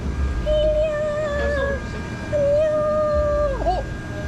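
An old dog howls and whimpers outdoors, two long wavering howls close by that bend into a whine at the end, with low background rumble and no talk.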